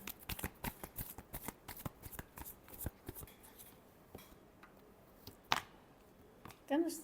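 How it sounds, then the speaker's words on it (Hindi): Tarot cards shuffled by hand in a quick run of crisp riffling flicks, close and fairly quiet, slowing into a few separate taps and slaps near the end. "Last shuffle."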